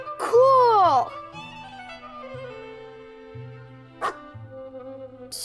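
A cartoonish bark from a cat character that barks in the Cthulhu adventure game Gibbous, one loud near yelp at the start and another short one later, over a soft musical backdrop.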